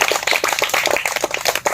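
Loud, steady applause from an audience at a village dholak singing performance, dense and continuous hand claps filling the whole stretch with no talk over them.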